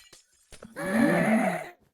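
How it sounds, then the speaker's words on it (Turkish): In the video game CraftRise, a block breaks with a single glass-like shattering burst that lasts about a second, preceded by a few soft clicks in an otherwise quiet scene. "cam sesi çıkıyor bloklardan"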